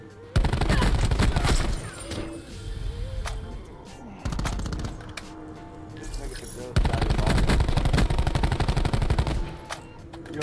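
Rapid automatic gunfire bursts in a shooting video game, loud close fusillades separated by brief pauses, with a voice speaking over part of the shooting.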